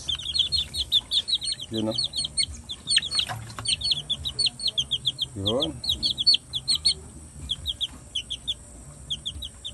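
Chinese chickens clucking and calling in short repeated bursts close by, with a dense chorus of small birds chirping throughout and a brief voice speaking.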